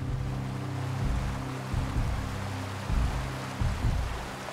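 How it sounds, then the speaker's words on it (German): Steady rushing of the Hase river pouring over the weir at Bersenbrück, a broad continuous roar close by with faint wind buffeting on the microphone and no voices. "wir sind hier an der Hase, an dem Wehr in Bersenbrück"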